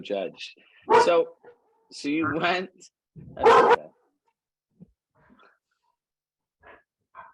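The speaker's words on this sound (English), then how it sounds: "if anyone wants to know what that noise is, that's her dog." A dog barks and yips a few times in short loud bursts indoors, mixed with people talking, followed by quieter whimpers and rustling.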